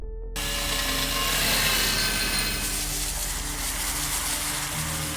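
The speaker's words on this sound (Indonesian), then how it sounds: "si robot anjing yang mengeluarkan sebuah bor dan melubangi dinding yang menghalangi lorong" Robot dog drill boring through a wall, a sustained grinding, whirring power-tool noise that starts abruptly and continues steadily at moderate loudness without talk.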